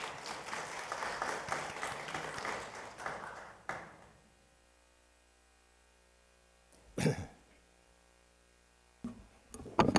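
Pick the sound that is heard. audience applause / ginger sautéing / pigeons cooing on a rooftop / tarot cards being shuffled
audience applause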